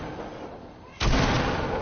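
Video game gunfire: quiet background, then a sudden loud shot that leaves a sustained roar of firing and echo.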